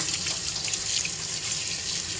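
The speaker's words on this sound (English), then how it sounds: "I'm gonna go wash my hand." Water gushing steadily from a kitchen tap while hands are washed, a continuous close hiss and splash with no talking.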